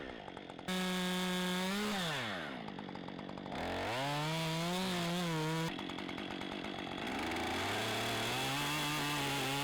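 Chainsaw cutting during a basic tree-felling job, a loud continuous two-stroke whine that repeatedly rises and falls in pitch as the throttle opens and the chain bites into the wood, with brief drops between cuts.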